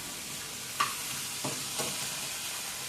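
Cashew nuts sizzle in a hot pan as they are stirred, giving a soft, steady frying hiss broken by a few quick scraping stir strokes, with no talking.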